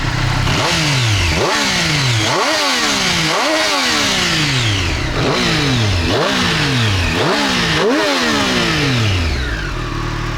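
A supermoto motorcycle engine is blipped repeatedly, each rev spiking sharply then dropping back, about six loud, close bursts in a steady rhythm.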